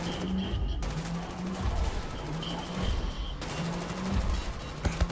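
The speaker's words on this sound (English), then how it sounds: "What the hell is shooting at me?" Rapid turret gunfire from the shooter game Wolfenstein: The New Order, dense bursts of shots rattling continuously at close range, with brief pauses between volleys.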